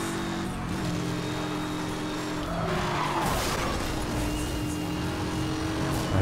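In the racing game Need for Speed Hot Pursuit, a car flies past at high speed with a loud engine roar and tire skid, sustained and close, with no speech over it.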